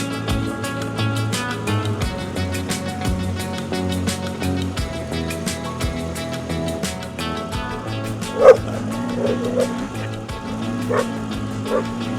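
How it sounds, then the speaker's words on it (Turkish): Shepherd dogs guarding a flock on a mountain road bark repeatedly in sharp, loud bursts with yips and whimpers, several dogs overlapping at varying distances over a steady motorcycle engine drone. "Çoban köpekleri görevini iyi yapıyorlar."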